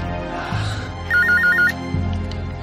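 A telephone rings during a call to an apartment reception desk, one short burst of rapid trilling electronic ringing rising over a low steady hum and background noise.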